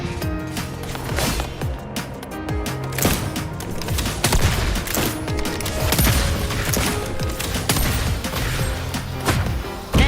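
Rapid bursts of video game gunfire crackle in a busy, loud battle mix, repeated shots layered with impacts and effects throughout, with no speech.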